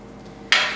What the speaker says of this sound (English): I've just got this over medium heat and I'm just stirring it all together to combine it